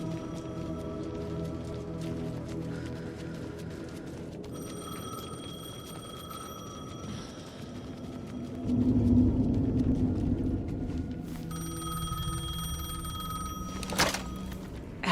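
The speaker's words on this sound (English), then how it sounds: "The payphone was ringing." Payphone ringing inside the video game Alan Wake 2, a steady repeating electronic ring over low rain-like rumble and ambient game music, with no talk.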